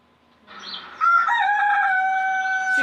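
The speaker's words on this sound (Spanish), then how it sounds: "El gallo cantaba." A rooster lets out one loud, close crow that starts with a brief rising call and swells into a long, sustained cock-a-doodle-doo, heard alone with no voices.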